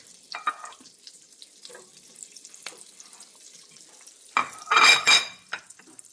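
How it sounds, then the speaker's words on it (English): Garlic sautés in butter and olive oil in a dish over medium heat: soft intermittent sizzles and stirring scrapes, then a louder, longer sizzling surge near the end. "Put in our garlic. We're going to let that saute."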